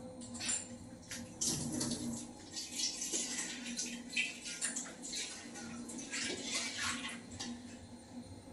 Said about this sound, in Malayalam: ഒരിത്തിരി വെള്ളം,